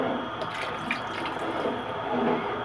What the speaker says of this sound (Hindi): अब हम इसको आराम से इसमें डालते जाएंगे और चलाते जाएंगे।